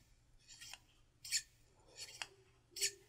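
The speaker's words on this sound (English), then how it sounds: "I really like this for cutting because you can actually keep the scissor flat as you're cutting." Kai scissors cutting fabric in four distinct snips, each a short crisp slicing swish with a metallic close, spaced about half a second to a second apart, quiet and close.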